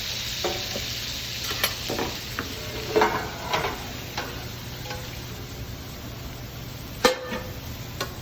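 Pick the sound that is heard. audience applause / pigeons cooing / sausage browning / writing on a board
sausage browning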